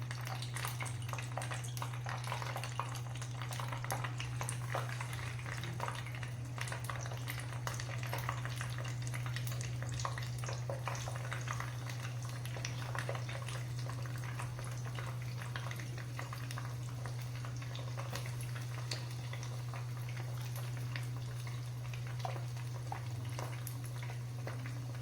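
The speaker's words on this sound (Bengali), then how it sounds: "বন্ধুরা, আরও বাদ বাকিগুলো আমি ভেজে নিই একে একে করে।" Chicken lollipops deep-fry in hot oil, a continuous fine bubbling crackle with a steady low hum underneath, even and unbroken throughout.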